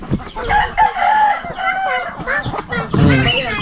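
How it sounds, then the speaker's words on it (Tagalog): Chicks and chickens on a farm cluck, peep and squawk close by in busy, overlapping calls, with people's voices mixed in now and then. "Sisiw yan."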